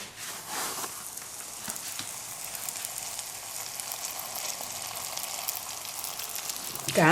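A vegetable pancake frying on a lidded griddle, a steady close sizzle and crackle that holds throughout, with a brief clatter at the very end and no talking.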